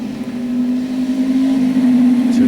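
Small backyard racing kart engines drone steadily through a night race, a continuous loud buzzing hum with slight pitch wavering as the karts circle, no voices.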